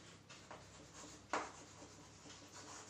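Faint scratching strokes of writing on a board during a Class 10 physics lesson on convex lenses, with a sharper tap partway through. Quiet room tone sits underneath.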